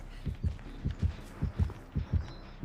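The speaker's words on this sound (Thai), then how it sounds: "เสียงหัวใจมาครับ" Heartbeat warning from an approaching killer in the mobile game Dead by Daylight Mobile: a steady run of deep, loud double thumps, about two per second, with no voices over them.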